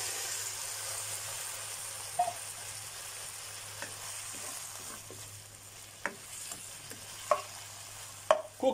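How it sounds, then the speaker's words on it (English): Pork steak with onions sizzles quietly in a pan as the remaining marinade goes in, with a soft steady fry broken by occasional scraping stirs and clinks of a utensil. "add in the rest of the marinade"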